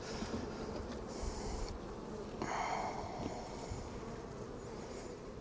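Honeybees swarm thickly over an open spring hive with brood in the top box, making a dense, steady drone of many wings close by that holds unbroken throughout, with no talk.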